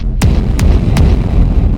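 Three punchy electronic snare hits, dry and sharp, spaced evenly over a deep, booming low-end rumble.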